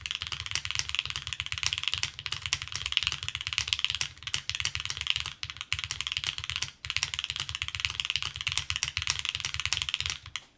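Rapid, continuous clacking of alpha keys on a Neo65 Core Plus mechanical keyboard, close and crisp, with dense irregular keystrokes and a few short pauses, with no voice over it.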